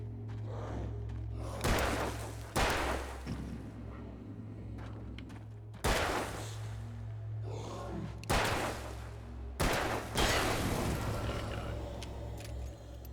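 Gunfire in the video game Alan Wake: several loud, sharp shots spaced a few seconds apart, each with a short ringing tail, over a low steady hum.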